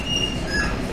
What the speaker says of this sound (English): these double-decker trains are on this track